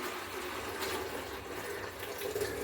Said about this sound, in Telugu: బియ్యం కడిగిన నీళ్ళు తీసుకుంటున్నానండి